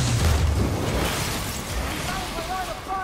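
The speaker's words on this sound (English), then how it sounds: "Smoke bombs! Or exploding smoke bombs." Exploding smoke bombs in the Infamous Second Son video game burst with a loud, low boom at the start, then decay into a hissing wash of noise as tonal game sounds rise near the end.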